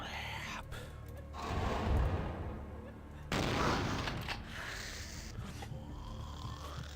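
Shotgun blasts from the video game Vampire: The Masquerade - Bloodlines, fired while moving through a mansion; two heavy booming bursts, loud and close, separated by a few seconds, with lower game ambience between.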